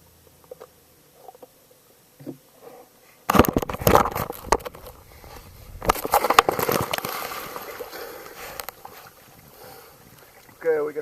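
A person jumps into canal water beside a seawall about 35 to 40 years old, with roughly 4 feet of tide, making a sudden loud splash followed by a second burst of churning and sloshing water.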